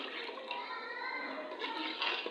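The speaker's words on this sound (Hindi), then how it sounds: "तो ये 1 गिलास पानी मैं इसके अंदर ऐड कर रही हूँ" A glass of water pours into a pot of potato and chicken shorba, making a steady splashing rush that lasts throughout and swells slightly near the end, with no clear talking.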